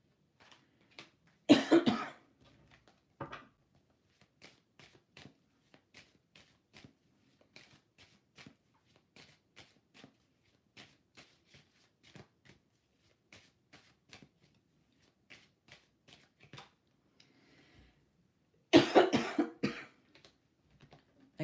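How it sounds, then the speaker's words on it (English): A person coughs in two sharp, loud bursts well apart, with quiet card shuffling and soft handling taps in between. "Again, excuse me for my cough."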